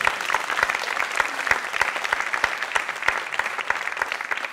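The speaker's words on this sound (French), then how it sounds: "est-ce que vous pouvez applaudir le rire de Babette ?" An audience applauds at a literary festival reading in Paris, steady, dense clapping from a crowd in a hall, fairly close and continuous.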